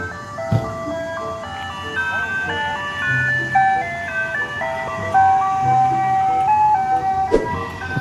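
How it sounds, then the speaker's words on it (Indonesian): A toy ice cream truck plays its tinkling electronic jingle, a steady bright melody of sustained notes running close and loud, with a few clicks as it is handled. "Yang ini mobil es krim teman-teman."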